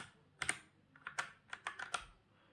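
Keys clack on a Redragon K628 Pollux gaming keyboard in a burst of about eight uneven, close, crisp strokes, with no talking.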